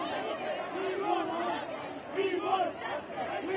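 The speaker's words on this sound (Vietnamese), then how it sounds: "Đoàn người biểu tình giận dữ hô vang những khẩu hiệu" An angry protest crowd in New Delhi chanting slogans, a dense, continuous roar of many voices rising and falling in rhythmic surges, heard at a moderate distance.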